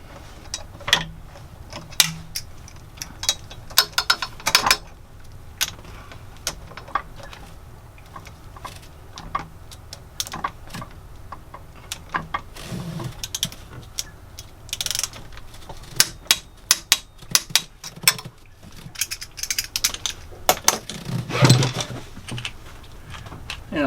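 Torque wrench clicking as PTO clutch bolts on a Lugger/Northern Lights marine engine are checked, giving sharp mechanical clicks and ratcheting at irregular intervals, close by, with occasional faint speech in between.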